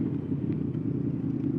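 A motorcycle engine idles with a loud exhaust, a steady close rumble holding low and even for the whole stretch with no voices over it.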